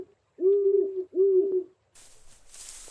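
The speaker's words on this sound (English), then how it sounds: "A large owl seems to be watching you." Owl hooting in the Colossal Cave VR video game: two long, clear hoots close together, with a breathy hiss coming in afterwards.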